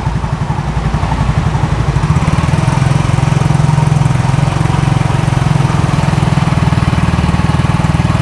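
A used scooter's engine is revved up from idle into a loud, buzzing, steady drone that holds close by with no talking.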